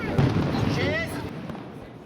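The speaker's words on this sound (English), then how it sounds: "suddenly fireworks started up" Fireworks bursting over a town square during an Independence Day celebration, heard as a dense crackling and popping wash with scattered bangs and whistles, fairly loud and continuous amid crowd noise.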